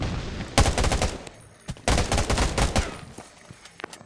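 Gunfire in the shooter game Undawn: bursts of rapid automatic shots in two main volleys with scattered single shots after, close and loud, no voices.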